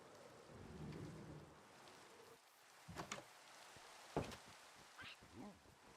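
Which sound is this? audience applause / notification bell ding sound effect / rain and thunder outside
rain and thunder outside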